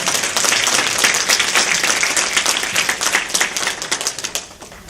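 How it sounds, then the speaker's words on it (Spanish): Church congregation applauding during a Palm Sunday sermon, loud dense clapping from many hands that thins out toward the end into scattered individual claps. "Denle un aplauso a Cristo en esta mañana"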